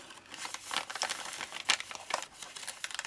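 A paper envelope, its window removed, is folded inside out, giving soft close crinkling and crackling of paper that continues for a few seconds.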